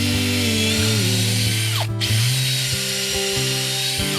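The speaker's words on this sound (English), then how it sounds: "Where the lower and upper piece of the garden edge overlapped, we created a step by locking it in with a number of screws." A power drill drives screws into garden edging where lower and upper pieces overlap, whining loudly with a rising motor pitch, a brief gap, then renewed steady whirring as a screw is run in, close and alone.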